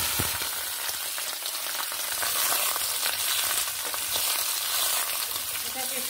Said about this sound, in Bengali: এখন দিয়ে দিব কেটে রাখা মিষ্টি কুমড়োগুলো।